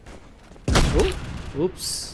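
A shotgun blast goes off in the mobile shooter King Of Warfare FPS, a single sharp, loud boom that trails off, with someone speaking briefly before and after it.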